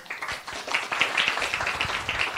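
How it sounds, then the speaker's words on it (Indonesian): A church congregation claps during a sermon, a patter of many hands with a few sharper claps standing out, moderately loud and continuous. "Tepuk tangan buat Tuhan yuk"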